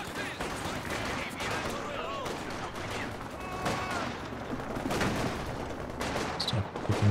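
Rapid volleys of rifle fire from conscript infantry in Company of Heroes 2, a wartime strategy game, crackling continuously in dense overlapping bursts amid battlefield noise, with a voice talking over it.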